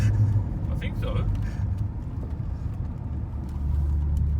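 BMW X5M driving at high speed past a McLaren 720S, a steady loud road and engine rumble with wind noise, while people talk over it throughout.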